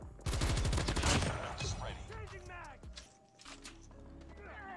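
An S36 rifle fires in the Call of Duty Mobile game: a rapid, loud burst of automatic shots up front, then scattered game effects and faint voices.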